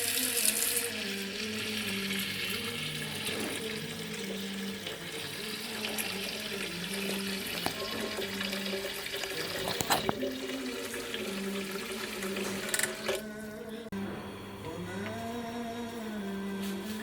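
Tap water runs steadily into a cooking pot as it fills with clean water for cooking bulgur wheat and chickpeas, a continuous splashing flow at close range with a few clinks partway through.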